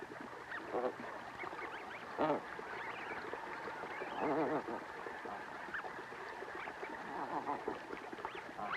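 Snow geese call repeatedly from a wild flock, a steady stream of honking and yelping cries layered over one another at moderate distance, with a few louder bursts standing out.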